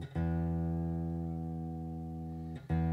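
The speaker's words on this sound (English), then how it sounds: "As I'm tuning the guitar" A Donner DST-100 electric guitar being tuned: a single string rings steadily and close for several seconds, then is plucked again near the end, with no voices.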